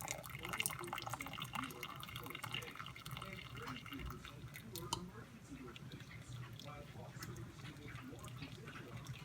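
Water drips and trickles as fresh sorghum pulp is pressed through a fine mesh sieve into a pot, a steady wet patter with close handling noises throughout.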